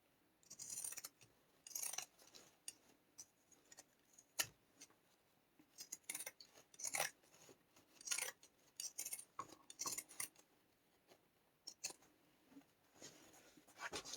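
Scissors snip repeatedly in close, quiet, irregular bursts of crisp cutting and rustling while something is trimmed, with no voices.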